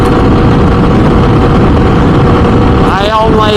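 Motorcycle with its exhaust dB killer removed cruising at highway speed, a loud continuous engine drone mixed with heavy wind roar, steady and close, with a brief warbling shift near the end.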